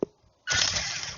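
A 3D-printed RC car's broken gearbox after wall crashes: a brief thump, then a loud, steady grinding whir of stripped gears that runs continuously to the end, with no talk.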